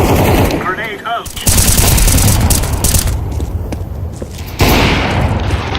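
Gunfire and a grenade blast in Counter-Strike 2, loud rapid bursts of shots and a heavy boom, with a voice speaking briefly amid the close, dense firing.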